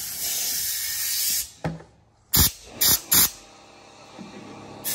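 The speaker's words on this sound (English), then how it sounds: "Now we're going to clean the inside of this bad boy with compressed gasoline." Compressed gasoline sprayed into the engine internals of a Honda 400EX ATV during a blown-motor rebuild: a sustained close hiss fades out, then three short, loud spray bursts follow in quick succession.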